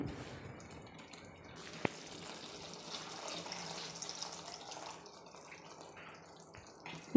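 Water pours and trickles steadily into a pan of egg capsicum curry, fairly quiet and close, with a faint clink in the middle.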